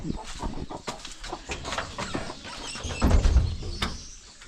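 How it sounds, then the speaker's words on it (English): Chickens and other birds cluck and call outdoors in hot weather around a New Year celebration, a busy scatter of short calls with a few thumps, steady and fairly close. "birds are celebrating"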